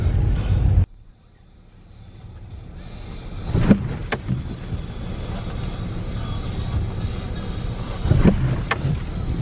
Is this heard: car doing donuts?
yes